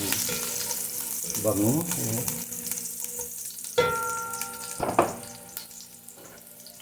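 Thumb-size ginger dropped into hot oil in a pan sizzles steadily, with stirring and scraping bursts partway through and a couple of sharp utensil clinks near the end, close and fairly loud.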